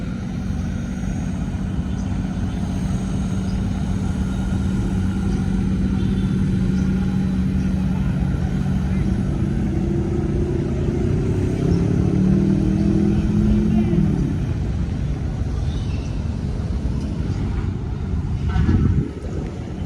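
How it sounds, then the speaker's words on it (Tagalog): A tractor engine drones continuously on the Manila Bay beach, a steady low rumble with wind buffeting the microphone and a brief rise in pitch near the end. "At ito naman, yung ating traktora."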